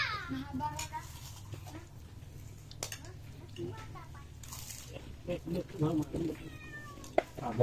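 A cat meows several times in a noisy home setting, short cries mixed in among chatting voices and household clatter.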